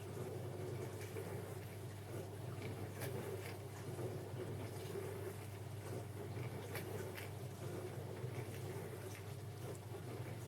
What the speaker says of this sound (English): So now you're hearing the wash cycle.